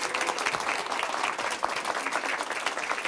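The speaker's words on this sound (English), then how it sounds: "Let's give them a huge cheer." Applause and cheering from a charity fundraising crowd, a continuous wash of many hands clapping at an even, moderate level with no speech over it.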